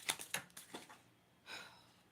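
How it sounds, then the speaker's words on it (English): A deck of cards is shuffled close by but faintly, a quick run of light ticking riffles followed by a softer sliding riffle after a short pause. "These cards, I'll tell you. I can't shuffle hard."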